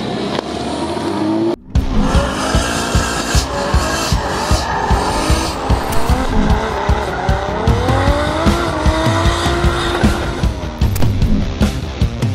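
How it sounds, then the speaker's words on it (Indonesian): A BMW G20 drifts on a race circuit, its engine roaring and revving loudly while tires squeal and skid continuously up close. "Kita akan drifting di sini."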